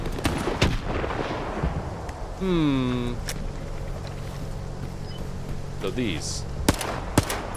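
Gunfire in the video game STALKER 2 during an objective to destroy portable installations: several sharp shots scattered across the scene, mixed with game effects and a descending electronic tone, while someone talks over it.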